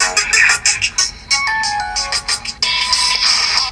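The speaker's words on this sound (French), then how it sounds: "la sonnerie, c'est pas mal" A Cubot H1 smartphone plays a bright electronic ringtone, a quick run of chiming melodic notes repeating in short phrases, close and fairly loud with no voices.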